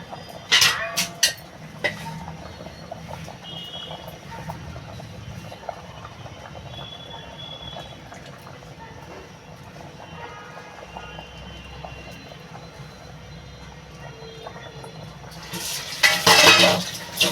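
Spice paste stirred into an egg curry with taro in a pot, soft clinks and scrapes of a spoon against metal over a low background, with a louder burst of clattering near the end and no one talking.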